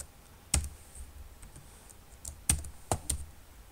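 Keys on a computer keyboard are pressed one at a time in a short, sparse sequence of distinct clicks, close and quiet over a faint background hiss.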